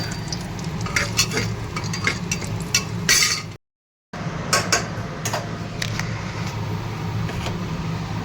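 Bay leaves and whole garam masala sizzling in hot white oil in a pan, a continuous close sizzle with a few sharp utensil clicks and scrapes, briefly cut to silence partway through.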